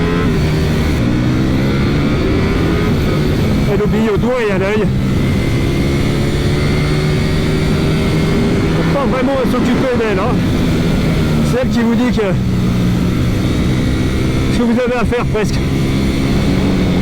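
Ducati Panigale V4 S sport motorcycle (2022) with its V4 engine running while ridden, a steady engine drone with rising revs in several bursts, heard under continuous talk from the rider.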